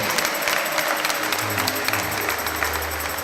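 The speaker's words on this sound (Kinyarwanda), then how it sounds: "Amashyi menshi" Sustained applause from a church congregation at an elderly couple's wedding vow renewal, steady clapping throughout with no voices over it.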